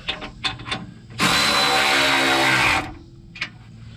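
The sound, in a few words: 3/8 drive ratchet hand tightening steering box brace bolts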